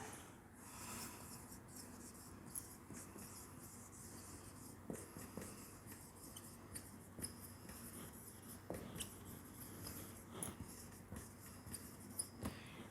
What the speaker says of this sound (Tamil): நான் எழுதுகிறேன் பாருங்கள்